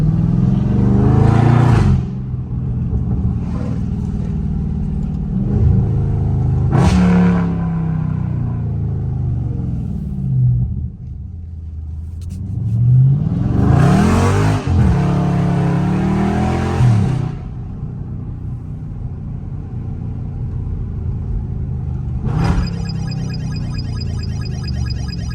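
A Dodge Charger Scat Pack engine revs hard in repeated loud surges, each climbing and then dropping back to a deep idle rumble, ending with a final pull away close by.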